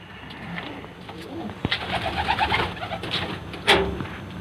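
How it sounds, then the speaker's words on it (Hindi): Pigeons coo in soft, repeated throaty murmurs close by, with a couple of sharp clicks or flaps and a voice faintly in the background. "ये तो हमारा कलसीरा कबूतर है और ये किसी दूसरे का कबूतर है"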